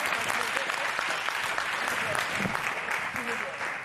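A town hall audience at a televised news forum about a Baltimore high school report breaks into sustained applause, a dense, even clatter of many hands that tapers slightly at the end.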